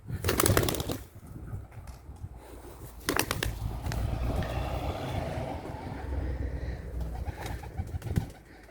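Pigeons in a training session, with bursts of wing flapping and fluttering over steady outdoor wind noise, the loudest flurries near the start and around the three-second mark.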